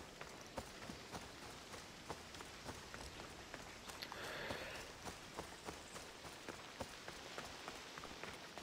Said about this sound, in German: Es regnet und die Sonne scheint.